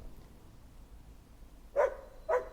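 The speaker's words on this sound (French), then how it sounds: "il y a une voiture qui passe, alors les chiens aboient" Guard dogs at a vegetable garden bark at a passing car, two sharp barks about half a second apart at moderate distance. A quiet, low background hum runs before and between them.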